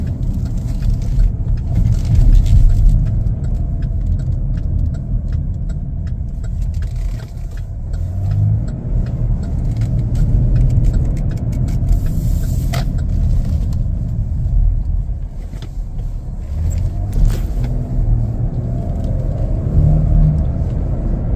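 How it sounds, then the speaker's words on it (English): A 2024 Chevrolet Blazer 3LT drives down the road. Inside the cabin there is a steady low engine and road rumble with mild swells as it picks up speed. No one speaks. "Good acceleration, super quick. Feels really nice on the road."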